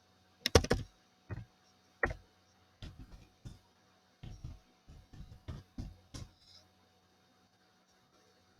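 Keys on a computer keyboard clatter in short irregular bursts of quiet, close clicks with brief pauses between them, no voices present.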